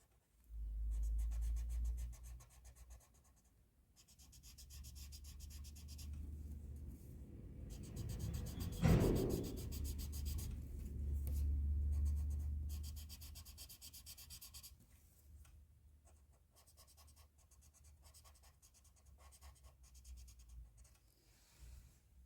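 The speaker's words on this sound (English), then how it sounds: "I'm going to blend and pull the pencil into the shape." Pencil scratching and rubbing on paper, blending graphite into a drawn shape around a bee, a steady soft scraping that swells and fades with the strokes, close and alone without talk.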